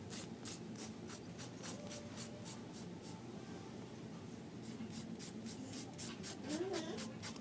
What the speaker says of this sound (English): file off the excess in a downward motion